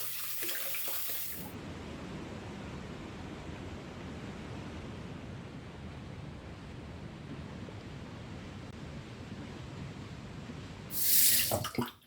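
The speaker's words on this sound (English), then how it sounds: "let me rinse off" Running water from a tap rinsing shave cream off a face after a shave, a steady soft splashing stream lasting several seconds, with brief louder hissing bursts at the start and end.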